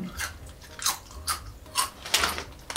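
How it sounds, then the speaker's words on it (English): Close, loud crunching of Cape Cod jalapeño potato chips, with about six sharp bites and chews spaced roughly half a second apart and no talking. "Seriously, why are American potato chips so good? They're super, super crunchy."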